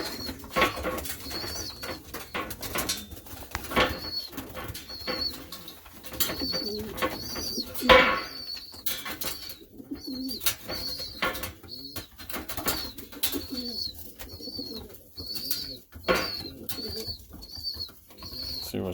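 Pigeons coo in repeated soft, rolling calls with occasional wing flaps, close by and continuous, with no talk over them.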